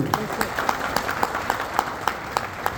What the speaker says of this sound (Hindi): जोरदार ताली दयाल गुरु जी को।